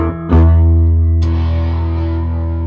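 A Washburn B20-8 bass guitar played through an amp with distortion rings out in loud, sustained notes, a sharp attack followed by a gritty, buzzing tone that slowly decays.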